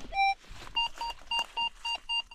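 A metal detector gives a short tonal beep followed by a run of six regular pulsed beeps, heard while searching a forest track trodden by deer, with no one talking over it.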